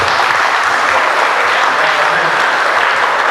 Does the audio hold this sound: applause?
yes